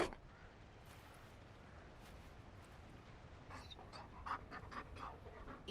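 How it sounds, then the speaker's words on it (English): A Mabari war dog in the video game Dragon Age: Inquisition pants softly and rapidly, fairly faint and close, with no talking. "You found a dog? They don't breed Mabari in Olay."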